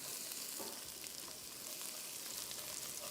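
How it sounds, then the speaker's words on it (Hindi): Chopped garlic frying in oil, a faint but steady hissing sizzle with soft crackles, alone and unbroken for a few seconds. "सबसे पहले आ जाएगा इसमें लहसुन चॉप किया हुआ, इसको थोड़ा सा किया फ्राई"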